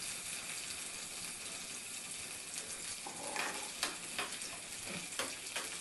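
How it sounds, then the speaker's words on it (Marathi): Lentils frying in oil over a medium gas flame for a tempering, a steady crackling sizzle with a few sharper pops and stirring scrapes, close and alone with no voices. "साधारण मीडियम गॅसवर आपण ही एक डाळ परतून घ्यायची आहे."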